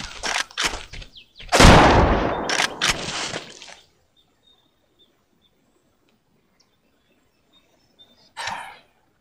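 Gunfire from the PS2 hunting game Cabela's Alaskan Adventures, with a few sharp reports and a denser burst in the first four seconds, then near silence before one last short shot.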